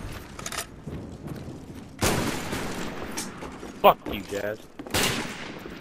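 Bursts of gunfire from the video game Black Ops 1, with sharp shots and rapid fusillades at irregular intervals, under someone talking briefly.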